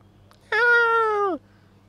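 A pet cat gives one clear, drawn-out meow of just under a second that falls in pitch at the end, close and loud, with a faint steady hum underneath and no talking.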